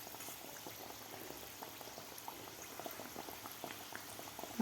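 Matar kachori, pastries stuffed with green peas, frying in hot oil, a soft continuous bubbling crackle that stays quiet and even throughout with no voices.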